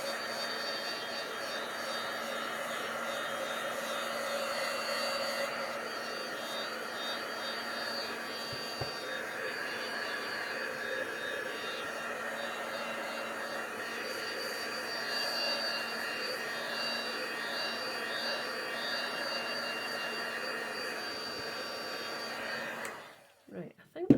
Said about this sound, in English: I'll dry this off so that the glitter doesn't actually stick to anything.